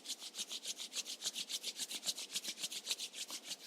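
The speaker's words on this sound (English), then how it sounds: "let's gently start rubbing our palms" Palms rub together briskly in a quick, even back-and-forth rhythm, producing soft, close swishing strokes roughly eight per second with no talk.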